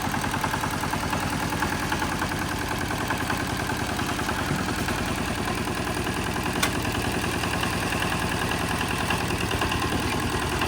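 A small engine started with a hand crank and decompressor runs at a steady idle, a continuous close, loud chugging clatter with no pauses and no talk.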